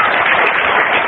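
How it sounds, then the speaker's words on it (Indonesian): A brief burst of congregational applause at a church sermon or Bible teaching session, dense and steady for about a second with no talk over it. "Kita beri tepuk tangan untuk kebenaran Tuhan."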